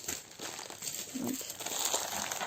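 Plastic packaging from an AliExpress order crinkles and rustles as it is unwrapped, a steady close crackling under a constant background hiss, with no voices.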